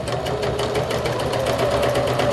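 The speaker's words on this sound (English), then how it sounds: "so then it's not as hard for your sewing machine to go through" A sewing machine stitches fabric at a steady fast pace, its rapid mechanical ticking and motor hum running continuously and close up.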